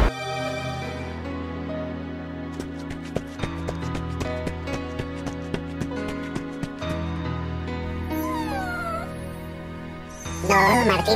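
A cat meows in rising, wavering cries toward the end, over a steady tonal musical backdrop punctuated by sharp clicks and taps.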